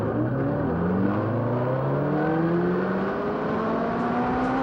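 Racing sidecar engines howl on a warm-up lap at Schleiz racetrack in Germany during the 2004 UEM Super Sidecar Championship, several high-revving engines rising and sweeping past in layered, continuous whines at moderate distance.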